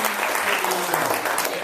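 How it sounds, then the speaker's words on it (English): Brief audience applause at a real estate investing seminar, a dense burst of clapping lasting under two seconds with a faint voice underneath. "how about a round of applause for..."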